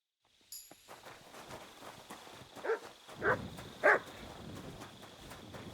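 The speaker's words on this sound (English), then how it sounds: "You silly doggy." A dog in Kingdom Come Deliverance II gives three short barks at medium distance over a steady outdoor ambience.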